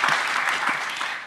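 Audience applause at a talk, a brief, fairly loud burst of dense clapping that holds steady for a moment and then begins to thin.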